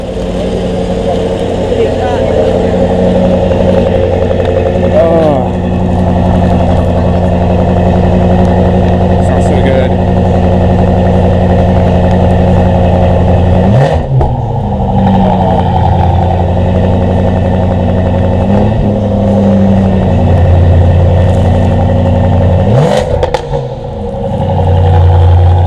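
A sports car engine rumbles steadily nearby with several sharp revs rising and falling, loud and continuous.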